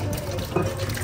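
A café tap runs steadily behind a coffee bar for a brief rinse, close and fairly loud, with faint café bustle underneath and no clear talk.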